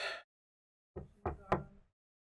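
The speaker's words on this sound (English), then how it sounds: "Knock on wood." Three quick knocks on wood, close and fairly loud, a short hollow rap sequence following a brief bit of talk, then silence.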